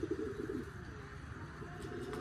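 Domestic pigeons cooing in a loft, soft throaty coos repeating near the start over a steady low background hum, with faint chirps later.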